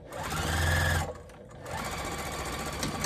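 A domestic sewing machine stitches fabric pieces for a microwaveable bowl cozy, a fast whirring run that stops briefly, then resumes at a steadier, quieter pace.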